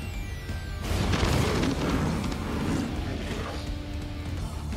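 An airstrike explosion in Crisis Core Final Fantasy 7 Reunion lands as a deep, rumbling boom after a short quiet lead-in, followed by sustained roaring, crackling debris noise.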